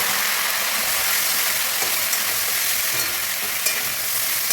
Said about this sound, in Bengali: ফুলকপি আলুটা এখানে ভাজা হচ্ছে।